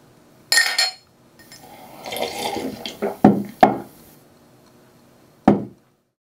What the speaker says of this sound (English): you'll hear three people clink glasses together, swig, and then put them all down